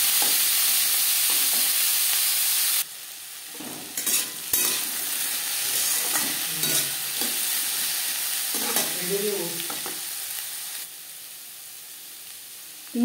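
Washed, drained potatoes tossed into a spice tempering for a vegetarian aloo chochori, sizzling in a pan: a loud hiss that drops off after a few seconds into a quieter fry, with repeated close scraping and stirring strokes of a spatula.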